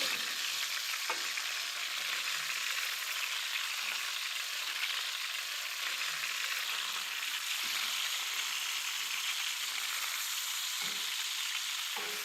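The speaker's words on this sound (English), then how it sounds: "So let me season the vegetables with salt and let them caramelize." Carrots and onions caramelizing in a pan, a steady, even, close sizzle of frying vegetables that runs throughout with little change and no talking.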